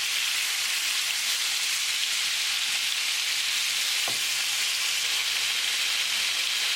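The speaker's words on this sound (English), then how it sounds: "We're going to cook the beef until it's nicely brown." Beef browning in a stew pot gives a steady, dense sizzle that stays loud and even throughout, with one brief faint knock partway through and no talking.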